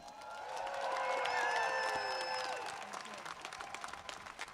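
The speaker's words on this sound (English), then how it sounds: "Give her a cheer." A crowd at a union rally in Sydney applauds and cheers, with whoops and whistles over steady clapping that swells, then fades into scattered claps.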